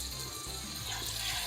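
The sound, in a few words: whole chicken frying in a pan for murg musalam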